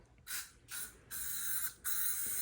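Four bursts of aerosol cleaner sprayed onto a car headlight hiss close by, the first two short, the later ones longer, with brief quiet gaps between.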